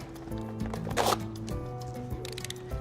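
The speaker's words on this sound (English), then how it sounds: "I'm going to cut open our bag." A bag of BASF MasterEmaco N425 powder mortar is cut open with one short, rasping tear. Quiet handling sounds surround it over a low background drone.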